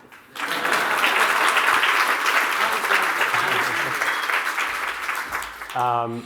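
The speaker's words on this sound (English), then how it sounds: "One more round of applause just for the jacket" An audience gives a long, steady round of applause at a men's-issues talk event, dense clapping filling the room for several seconds before tapering off as a voice begins.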